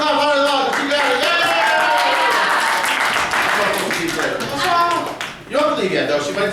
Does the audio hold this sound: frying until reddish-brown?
no